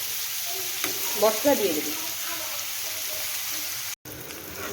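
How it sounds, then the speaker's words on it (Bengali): Fish oil fries in a pan for katol fish oil curry, a continuous close sizzle with a brief stirring clatter, while someone speaks briefly over it before a short cut. "মাছের তেলটা খুব ভালো করে ভেজে নিয়েছি"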